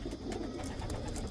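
Young racing pigeons coo steadily in a loft, a soft, continuous low murmur of overlapping calls close by with no talking.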